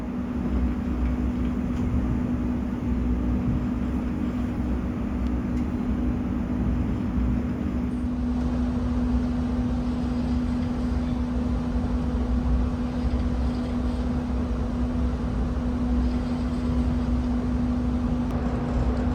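Continuous rumbling of the Manahan passenger train moving after leaving Cirebon, Indonesia, loud and steady, with a constant low hum and rattling undertone throughout, no speech.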